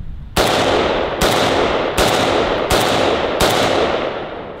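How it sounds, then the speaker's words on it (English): Five loud AK rifle shots fired one at a time at a steady, unhurried pace, each a sharp close crack that rings out and decays before the next, with no talk between them. "That's probably the softest AK I've ever shot."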